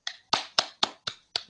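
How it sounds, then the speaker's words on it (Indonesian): A few people clap in a classroom during peer-teaching practice, six sharp, evenly spaced claps over about a second and a half, close by and fairly quiet. "Tepuk tangan untuk yang satu ini."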